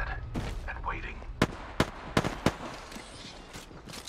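Several sharp video game gunshots crack out singly at irregular intervals, crisp and fairly close, over a quieter background where a voice talks.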